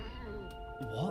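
In the video game What Remains of Edith Finch, a cat gives a short meow that rises near the end of a brief moment, over a steady game soundscape with a voice talking.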